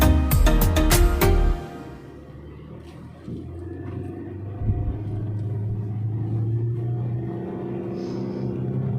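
Car engine pulling hard in first gear up a long, steep mountain road toward Gunung Lio near Majenang, a steady loud low drone heard from inside the car after a burst of clatter at the start.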